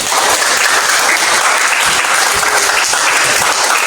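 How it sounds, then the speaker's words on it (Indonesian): A classroom audience applauds, a dense, steady burst of clapping from many hands, loud and close for the whole stretch with no talk. "beri aplaus dulu"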